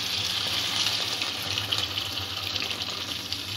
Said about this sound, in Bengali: সামান্য জল দিয়ে একটু সেদ্ধ করে নেব